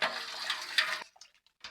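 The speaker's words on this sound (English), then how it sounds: "while I'm pouring cold water into this, the water will wash out the can" Cold water poured into an emptied malt extract can from a Mangrove Jack's Irish Stout kit, a steady close splashing rush that cuts off abruptly after about a second, followed by a few faint knocks and drips.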